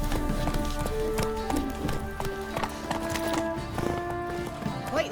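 Roach, a horse in The Witcher 3 video game, gallops with steady, rapid clip-clop hoofbeats close by, continuing throughout.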